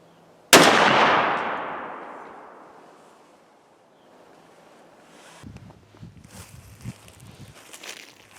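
A single sharp gunshot from an S&S drilling rifle firing an 8x57JR reload, loud and close with a long decaying tail into quiet, followed by faint wind and outdoor rustle.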